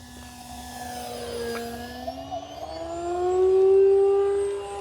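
An E-flite SE5a 900mm RC model World War I biplane takes off from grass, its electric motor whining steadily and rising in pitch, then swelling louder toward the end as it climbs away.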